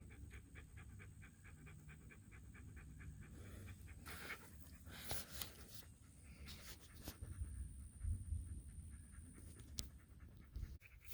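Dog panting in the Everglades during a fishing and foraging outing, soft rapid breaths close by amid faint outdoor rustling and handling noise, quiet and continuous with no speech.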